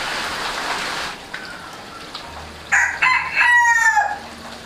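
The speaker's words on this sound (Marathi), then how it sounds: "बाहेर रिपरिप पाऊस पडतोय" Light drizzle falls steadily outside in a Konkan village at Ambavali, Mandangad, a soft rain hiss under a rooster's loud crow in the second half.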